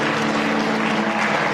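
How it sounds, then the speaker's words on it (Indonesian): A church congregation gives a warm round of applause during a worship service, dense continuous clapping filling the room without a break. "Yang merasakan hadirat Tuhan kasih tepuk tangan yang meriah."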